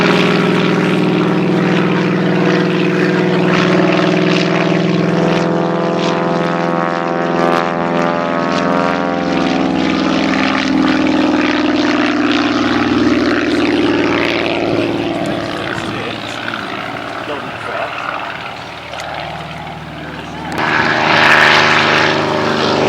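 Fieseler Storch propeller plane flying slowly at an airshow with flaps down and throttle back, a steady droning engine and airscrew hum holding loud and near, then easing away before a brief swell near the end.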